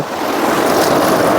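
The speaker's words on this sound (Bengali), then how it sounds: "বিশাল বড় বড় ঢেউ আসছে" Big sea waves at Digha beach roll in with a steady, loud broadband wash of surf, joined by wind rumble on the microphone, with no clear separate breaks over the short stretch.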